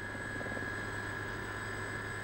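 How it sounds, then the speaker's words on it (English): An Army Air Corps helicopter in flight over the Falkland Islands in 1983, a steady, loud rotor and engine drone heard from inside or close by, continuous and even throughout with no talk. "We flew to Saunders by Army Air Corps helicopter."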